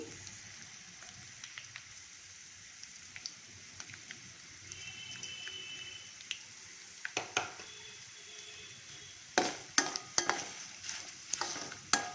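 Chillies sizzle softly in hot oil in a pan with a steady background crackle. Scraping stirs come and go, growing louder and more frequent near the end.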